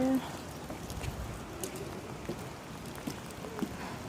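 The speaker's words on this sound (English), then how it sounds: "It's really rainy here." Rain falls steadily in a spring garden, a soft continuous patter with occasional louder drops close by, heard outdoors without talk.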